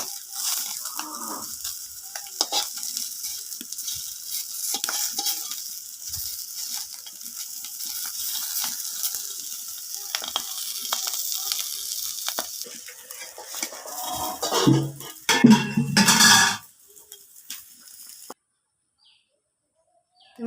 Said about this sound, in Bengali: মাছগুলা হালকা একটু ভাজি করছি